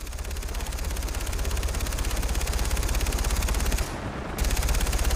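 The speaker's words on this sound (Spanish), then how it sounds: "Son varios helicópteros." Rapid machine-gun fire rattles on and on in the video game Far Cry 3, a loud, dense stream of shots over a heavy low helicopter drone, with a brief gap before the bursts resume.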